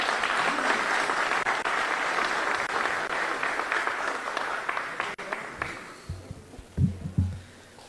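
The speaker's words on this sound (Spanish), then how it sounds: "Recibámoslo con un fuerte aplauso." An audience applauds steadily as a minister, a highway infrastructure official, is welcomed at a road inspection event in Quetzaltenango, Guatemala; the clapping is loud and sustained, then tapers into scattered claps and low thumps near the end.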